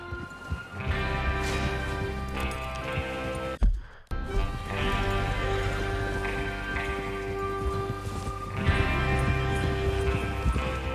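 Hooves clip-clop in a steady galloping rhythm over a dense background of game sounds, briefly cutting out before resuming with several horses running, in Red Dead Redemption 2.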